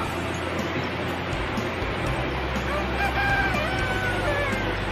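A rooster crows over a constant low rumble of background noise, its call rising and trailing off at a moderate distance.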